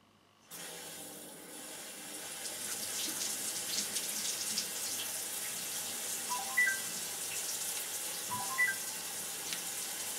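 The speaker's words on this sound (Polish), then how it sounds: "Zanim odbierzesz telefon i wyjdziesz z łazienki, zakręć wodę." Water runs steadily from a bathroom tap into a sink, a continuous close hiss with a few faint clinks partway through and no talking.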